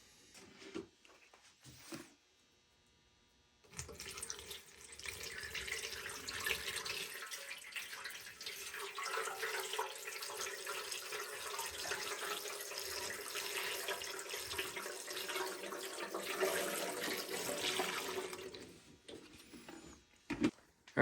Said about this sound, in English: I got that filled up as far as I could go with almost 2 gallons worth of vinegar